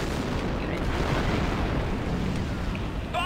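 A detonation charge going off in the video game Star Wars Republic Commando, heard as a sustained, loud low rumble and roar of blast with no distinct separate bangs.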